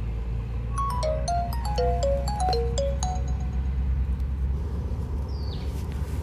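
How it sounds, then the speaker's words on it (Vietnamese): A stylized version of the classic Nokia tune plays as the ringtone on a Nokia 6300, a bright stepped melody of short notes over a steady low rumble, then stops, leaving the background hum. "Một cái tiếng chuông huyền thoại được cách điệu lại ha."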